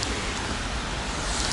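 Rain falling outdoors at a zoo makes a steady, dense hiss that stays even across the short stretch, with no voices.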